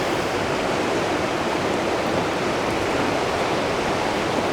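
Steady, dense rush of river water flowing continuously, full broadband roar with no pauses, close and loud, alone without voices.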